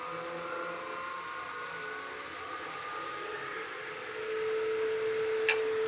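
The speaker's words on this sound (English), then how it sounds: "set your lathe to 0 when you start, and we'll bring this up to about 1800 to 2000 RPM" A wood lathe turning a baseball bat blank, spinning up toward 1800 to 2000 RPM. A steady whirring hum carries a faint tonal whine and grows noticeably louder partway through.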